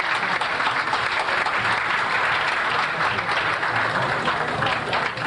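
A live audience at an awards presentation claps in steady, dense applause for Mrs. Carmen Murphy of House of Beauty Records, loud and continuous throughout with no pauses.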